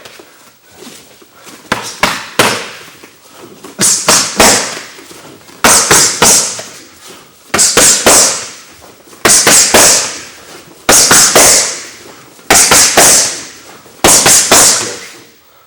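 Punches thrown in MMA pad or bag training, hooks and straight rights, land as sharp repeated impacts in quick bursts of two to three with short pauses, close and loud, no talking.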